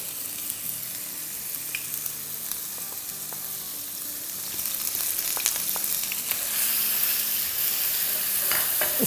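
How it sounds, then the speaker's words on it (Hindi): Crushed garlic and ginger, about two tablespoons each, sauté in hot oil for chicken chilli, giving a steady close sizzle with occasional stirring taps that grows slightly louder toward the end. "इसको सौटे करेंगे"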